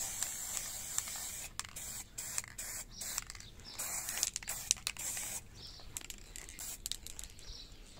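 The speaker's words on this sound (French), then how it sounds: "un petit coup de bombe grise sur les bumpers pour qu'ils aient l'air plus propres" Grey spray paint hissing from an aerosol can onto the plastic bumpers of a Onewheel electric board, in short, repeated bursts of fairly quiet spraying, close up.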